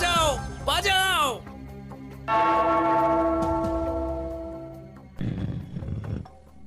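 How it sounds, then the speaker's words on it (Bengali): A bell rung in an animated Gopal Bhar cartoon gives a long, sustained metallic ring that slowly fades, set between growling, roar-like voices and a brief burst of noise. "ওই ঘন্টাটা বাজাও, বাজাও।"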